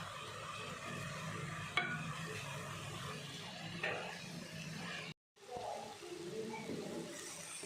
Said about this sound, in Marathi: गाजराचा हलवा मी आता हे शिजवून घेत आहे